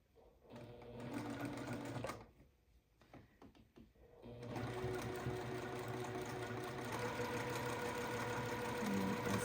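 A sewing machine stitches a curved quilt block, starting in a run, pausing with a few soft clicks and handling noises, then resuming a steady, close, humming whir that continues to the end.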